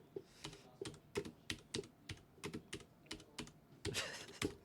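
Someone types on a computer keyboard close by, producing a steady run of crisp, evenly spaced key clicks at low volume with no talking.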